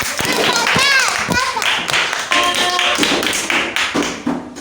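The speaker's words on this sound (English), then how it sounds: "Clap for her." Children in a classroom clap together for a pupil who answered correctly, a quick burst of close, uneven hand claps with voices chattering and calling out over it throughout.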